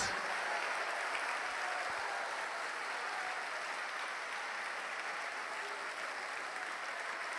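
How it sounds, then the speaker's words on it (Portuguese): A church congregation applauding during a worship service, a dense and steady wash of many hands clapping that continues without pause. "Aplauda, aplauda, aplauda, glorifica o teu Deus."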